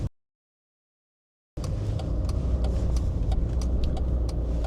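A car engine pulls forward at staggered traffic lights, a steady close low rumble of road vehicle noise starting abruptly after a short silence and continuing without talk.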